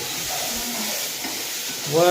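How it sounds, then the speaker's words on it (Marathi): Chillies fry in hot oil during home festival cooking, a continuous dense sizzling hiss heard close up, with a brief voice-like tone at the very end. "मिरची तळली"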